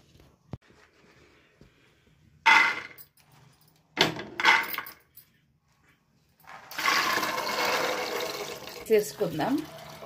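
Water is poured into a pressure cooker over soaked chickpeas, a loud close gushing burst lasting a couple of seconds, preceded by scattered clanks and knocks and followed by a softer trickle, with a person talking.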